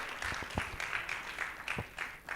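Brief, moderately loud applause from an audience at a youth empowerment summit, continuous crowd clapping with a few sharper individual claps.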